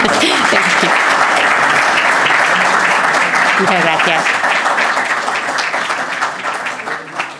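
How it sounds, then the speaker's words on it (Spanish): Audience applause fills a lecture hall after a presentation, dense and loud at first, then thinning and fading toward the end, with a voice briefly speaking over it. "pediría un pequeño aplauso, un gran aplauso."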